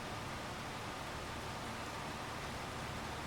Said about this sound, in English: it should stop raining sometime soonish too